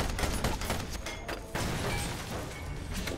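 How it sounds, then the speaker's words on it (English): The light cannon in the Ironcast video game fires as a dense, loud volley of overlapping booms and mechanical clatter, filling the whole moment with rapid bursts. "Let's fire the light cannon."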